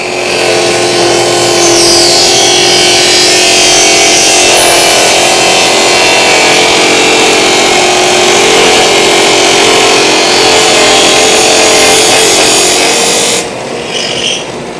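A Shopsmith cuts a dado in a wooden workpiece, a loud, steady grinding whine of blade through wood that holds for about thirteen seconds before dropping away to the motor's quieter hum.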